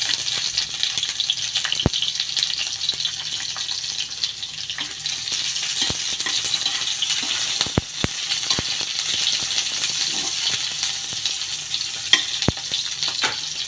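Onions sizzle steadily as they fry in a pan for a Filipino galunggong fish dish with tomatoes, a dense constant crackle with occasional sharp clicks of a utensil stirring, with no talk.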